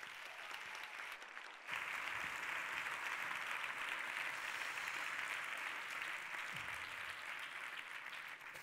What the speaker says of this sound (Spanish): Démosle un fuerte aplauso a Eva Cabanelas